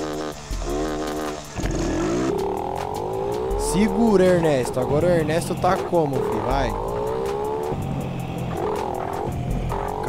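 A Honda Biz motorcycle with no plate revs and rides through a neighborhood, its engine rising and falling in repeated surges beneath loud, near shouting voices.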